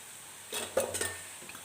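Spices such as turmeric, Kashmiri red chilli powder and coriander powder being stirred in a pan, a few quick metallic scrapes and clinks of a spoon over a faint background sizzle, close and brief.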